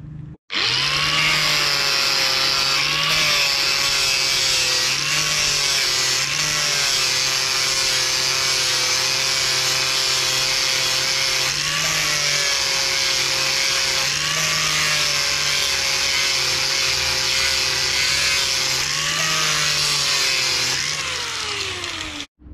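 An angle grinder fitted with an 80-grit zirconia sanding disc whines loudly and steadily, its pitch dipping briefly every few seconds as the disc bites into the surface.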